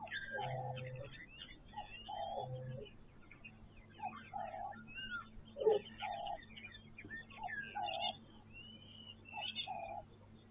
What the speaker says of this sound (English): all the birds are chirping really nicely now.